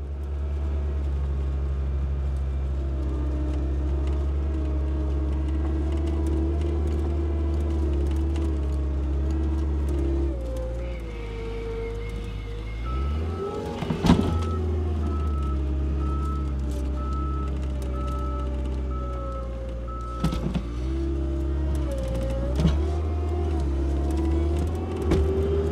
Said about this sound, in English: Even with a skid loader, 3 feet of snow is a lot to move in one pass.